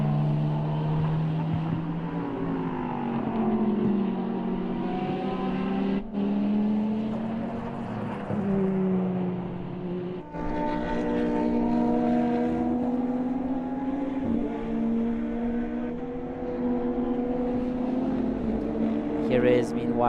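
A BMW M8 GT race car in a GT endurance race at Autodrom Most: a loud engine note climbs and falls repeatedly with sharp gear changes, sustained throughout.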